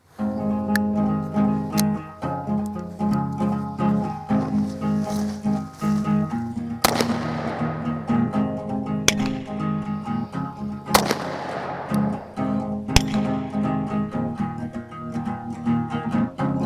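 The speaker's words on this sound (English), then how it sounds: "I'm going to go after the 2 swingers that are flanking the target and put 2 more on target" Sharp gunshots from a Bearman 9mm derringer fired at swinging targets, several loud cracks standing out at irregular intervals over a steady low hum and background noise.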